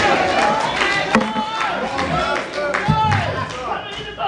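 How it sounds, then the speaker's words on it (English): Church congregation clapping hands together in a sermon setting, a dense run of claps mixed with crowd noise and voices throughout. "Clap your hands and tell God thank you."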